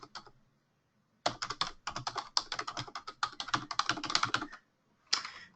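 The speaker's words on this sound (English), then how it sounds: "I'm going to type in my new shipping address" Fingers type on a computer keyboard in quick, close-up bursts of key clicks, one short burst, a pause, then a long run of rapid tapping and a final brief flurry.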